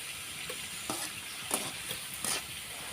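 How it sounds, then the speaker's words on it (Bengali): Flour snacks frying in oil over low heat, a steady soft sizzle broken by a few brief scraping stirs, close and fairly quiet, with no talking. "এটা হালকা জালে ভাজতে হবে, না হলে দ্রুত পুড়া যাবে।"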